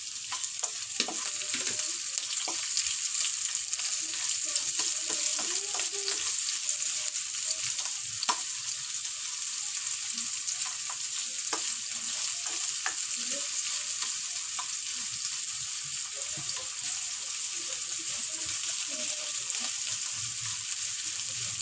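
Onions fry in a pan for pork pochero, giving a steady crackling sizzle with scattered pops and soft stirring sounds, moderately quiet and continuous throughout.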